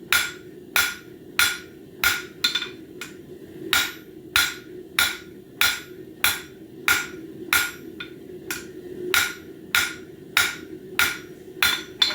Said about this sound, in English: Hammering on all 4 sides so that we can keep that consistent right angle going